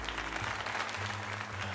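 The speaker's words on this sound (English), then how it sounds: "let us give another heartfelt round of applause for Atomizer" Crowd applause from the video game Pokemon Legends Z-A, a short steady wash of clapping at low level with no distinct individual claps standing out.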